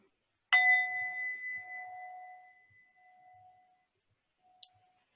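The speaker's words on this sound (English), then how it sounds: "It's actually a Tibetan singing bowl." A Tibetan singing bowl struck once during a meditation session, giving a clear ringing tone with steady overtones that decays slowly over several seconds in a quiet room, followed by a faint brief click.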